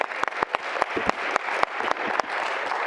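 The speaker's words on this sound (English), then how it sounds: "Can we give Stella another round of applause?" A school board meeting audience gives a round of applause: a continuous wash of many hands with several sharper, louder claps standing out, holding steady throughout.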